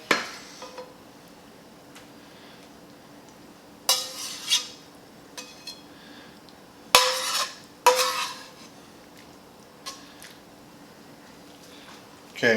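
A spatula scraping and spreading food across a hot pan for prime rib sliders with onions and mushrooms, in a few sharp bursts of scraping and clatter separated by quiet stretches of faint sizzling.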